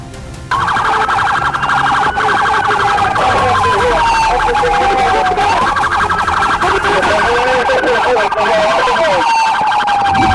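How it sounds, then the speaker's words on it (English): Police car sirens wail continuously and loudly during a stolen-vehicle pursuit by Arkansas State Police, with several rising and falling tones overlapping over engine and road noise. "As long as the sirens are still sounding"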